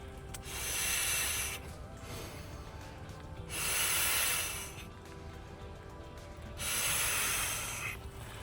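Three long, strong breaths blown into the nozzle of a Thermarest NeoAir Xlite sleeping pad, each a close, breathy rushing whoosh lasting about a second, separated by quieter pauses and soft rubbing.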